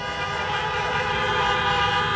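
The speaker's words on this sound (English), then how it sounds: "Honk if you agree with me" Many car horns honking together at an outdoor drive-in campaign rally in Pittsburgh, a dense continuous blare of overlapping tones held for the whole stretch with no talk over it.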